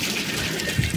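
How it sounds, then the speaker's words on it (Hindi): Water flows into a boat as a continuous close gush and trickle, brief and steady, with a couple of small splashy bumps near the end. "अंदर ही पानी जा रहा है"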